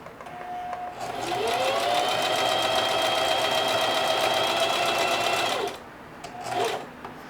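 A sewing machine stitches denim in one steady, loud run of rapid needle strokes lasting several seconds, spinning up at the start and stopping abruptly, followed by a few brief mechanical clicks and a short whir.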